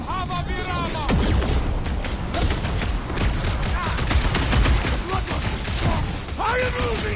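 Rapid gunfire in the Guardians of the Galaxy video game on PS4: dense volleys and repeated shot bursts, loud and close, with characters shouting over the shooting.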